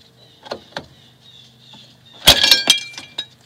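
Rear drum brake parts on a 2005 Toyota Corolla popping loose, a sudden close metallic clatter and rattle after a few light clicks of tools.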